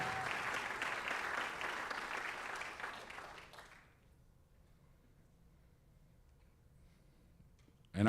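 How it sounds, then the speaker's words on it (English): School gym audience applauding as a rowing athlete signs her letter of intent on spring signing day, steady clapping for about four seconds that stops abruptly, followed by near silence. "let's give a round of applause for Grace as she signs her letter of intent"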